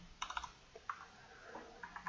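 Someone types an SQL query on a computer keyboard, producing quick, light, irregular key clicks in short bursts. The typing is faint and close, with no talking.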